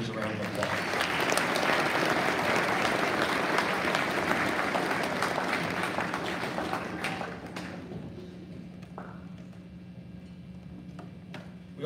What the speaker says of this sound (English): Let's give the 7th and 8th graders a round of applause.